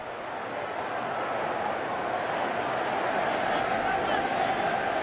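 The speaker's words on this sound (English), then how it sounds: "Crowd trying to get back into it" A college football crowd at the 2009 Cincinnati versus Pitt game fills a stadium with a steady, distant roar and murmur that holds at an even level throughout, with no sharp bursts of cheering.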